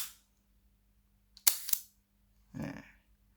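An Olympus 35SP film camera fires at a slow shutter speed: a sharp click opens the shutter, a second click closes it moments later, and a softer mechanical sound follows, all close and isolated in a quiet room.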